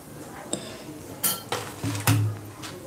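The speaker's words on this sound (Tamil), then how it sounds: "அடுத்தது எண்ணெய் வச்சிடலாம் நம்ம அடுப்பில்." Metal cookware clanks in a kitchen as a pan is set onto the stove to heat oil, with a few separate knocks and clinks and a final scraping metallic thud, fairly close and with no talking.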